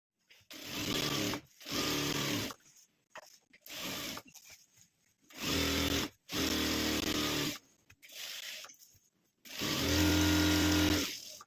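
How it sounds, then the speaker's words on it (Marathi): A sewing machine stitches lines across fabric in several separate bursts of whirring, each a second or two long with short pauses between, ending in a longer, louder run. "आता याच्यावर आपण आडव्या उभ्या लाईनी मारून घेऊया म्हणजे टिपा मारून घेऊया"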